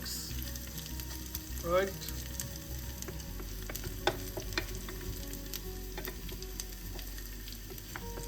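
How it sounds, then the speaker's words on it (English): Chilies stirred into a pan of frying onions, fenugreek and cinnamon for Singaporean Ramadan porridge, giving a steady low sizzle with soft scraping stirs and a brief louder burst; a voice speaks once briefly. "as I'm mixing, before you forget it, add your chilies to the mix"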